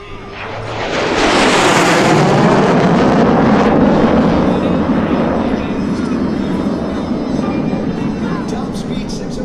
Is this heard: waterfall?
no